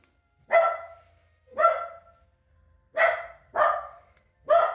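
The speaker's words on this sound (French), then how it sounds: "Le chien qui aboie comme une sourde" A dog at home barks five times in sharp, separate bursts with short pauses between them, loud and close in an otherwise quiet room.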